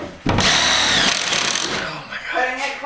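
A power drill drives a screw during a skoolie school bus conversion, a loud motor whine that runs steadily for a couple of seconds and then tapers off.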